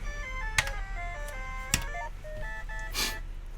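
A Gaoranger DX Soul Bird toy gives faint, tinny electronic melody beeps with a few clicks and a short burst of noise, quiet and close, with no talking over it.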